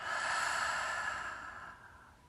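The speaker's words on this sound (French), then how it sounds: "À nouveau, inspire par le nez et expire par la bouche." A long, slow breath during a guided meditation and slow flow yoga session, steady and airy, close and soft, gradually fading toward its end with no voices.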